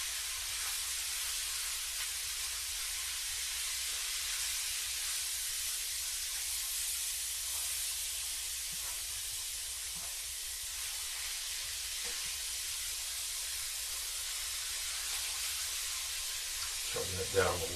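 Cabbage fries in a pan with a steady, close hiss of sizzling oil and steam that runs unbroken throughout, ending with a small clatter.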